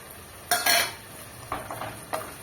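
Ground cumin, coriander and Kashmiri chili powder go into a pan for a vegetarian jackfruit kalia, followed by a few scraping stirs of a spoon against the pan over a soft sizzle.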